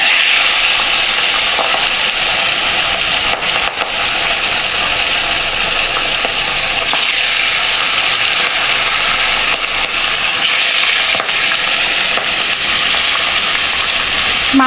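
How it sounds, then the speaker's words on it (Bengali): Rohu fish fries in hot oil, giving a loud, continuous hiss and sizzle that stays steady from start to finish with only slight crackling swells and no voices. "মাছটা ভালো করে ভেজে নেব।"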